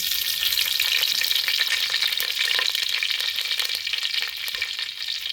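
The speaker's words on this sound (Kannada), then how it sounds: "ಚೆನ್ನಾಗಿ ಫ್ರೈ ಮಾಡ್ಕೊಬೇಕು" Crushed small shallots and curry leaves frying in hot oil with fenugreek seeds for a Kerala-style bangude fish curry, a loud, steady, dense sizzle crackling continuously throughout with no talk.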